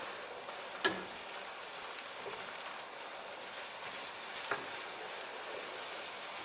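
Browned mince fries with a steady, soft broadband sizzle while spice mix is stirred through, with a couple of faint utensil taps against the pan; no one talks.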